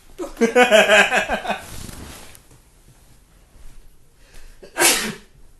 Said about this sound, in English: I've had to sneeze this entire time.